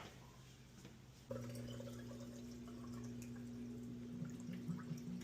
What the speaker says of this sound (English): now it's draining out the water